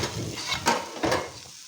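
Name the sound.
potatoes frying in a pan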